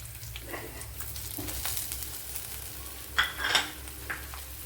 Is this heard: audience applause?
no